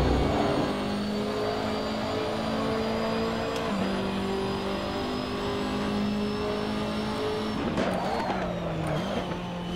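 A race car in Assetto Corsa understeering and skidding, its tires squealing in long, sustained screeches over a steady engine drone. The skid briefly breaks off and then resumes, loud and continuous, with no talk.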